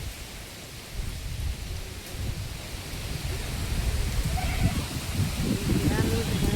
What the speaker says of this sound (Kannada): ಮಳೆನೇ ಮಳೆ ನೋಡ್ರಿ ನಮ್ಮೂರಲ್ಲಿ.